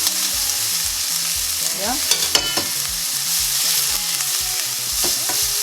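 Onion fries in a hot frying pan for a Ugandan rolex street-food dish, giving a loud, steady sizzle close up, with stirring clinks and scrapes and a faint low tone underneath.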